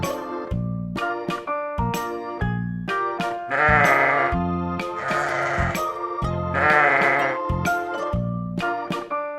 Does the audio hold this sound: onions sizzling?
no